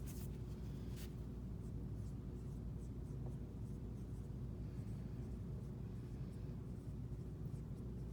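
Pen or pencil writing on paper to mark a dotted half note, soft scratchy strokes in short bursts over a steady low room rumble, close and quiet.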